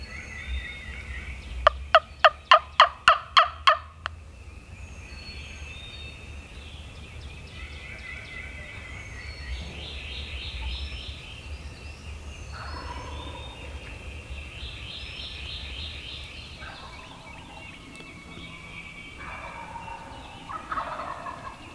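A young male wild turkey lets out one short, rapid burst of gobbling near the start, then birds chirp and call faintly in the distance of hardwood hill country for the rest.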